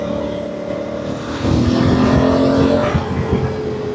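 A Honda CRF1000 DCT motorcycle pulls out and accelerates, its engine note rising and swelling louder about halfway through, with steady road and wind noise underneath.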